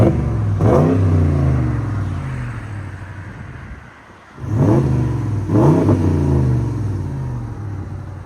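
A 2023 RAM 1500 with a 5.7L HEMI V8 and eTorque, fitted with a Magnaflow cat-back exhaust, revving loudly up close in three deep bursts, with a brief quieter dip between the first and second.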